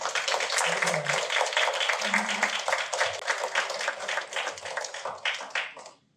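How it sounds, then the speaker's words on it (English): Audience applause at the Melbourne Python Meetup, a steady burst of clapping from a crowd in a room lasting several seconds before tapering off at the end, with a few murmured voices underneath. "let's give a round of applause for Akshat"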